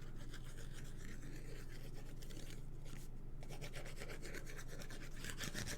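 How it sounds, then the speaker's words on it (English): A paper card panel being rubbed from behind with a steady, close scraping friction that runs continuously, without talk. "Just give that a press, a little rub from behind"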